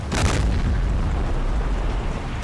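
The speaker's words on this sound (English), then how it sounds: "there's a bunch of artillery falling down there" Artillery shells bursting in the war game Combat Mission: Red Thunder, a dense low rumble of explosions with a sharper blast near the start, loud and continuous throughout.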